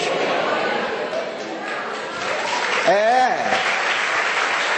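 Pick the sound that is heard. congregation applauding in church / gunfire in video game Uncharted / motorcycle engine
congregation applauding in church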